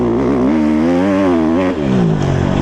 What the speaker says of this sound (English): that snappy power is really cool and the bike is really loud